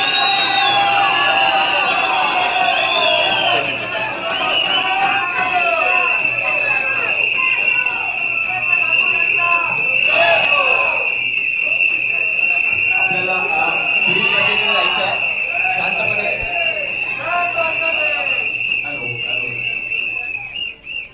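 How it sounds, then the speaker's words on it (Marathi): A large crowd of Bahujan Vikas Aghadi supporters celebrates at the Vasai Virar municipal corporation as a mayor is declared, with loud cheering, shrill whistles and a sustained horn-like tone running under dense overlapping voices throughout. "आपण पाहू शकतो हा जल्लोष जो आहे तो बहुजन विकास आघाडीचा आहे"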